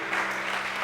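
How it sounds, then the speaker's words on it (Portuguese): A church congregation applauds during a sermon, a dense continuous wash of clapping heard briefly and fairly loud. "Você podia dar um aplauso a Ele?"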